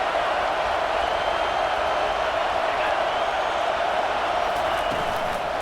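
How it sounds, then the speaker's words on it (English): A football stadium crowd roars in a dense, continuous wash of cheering and noise, loud and steady throughout, with faint clapping mixed in. "This crowd bringing the energy and noise early."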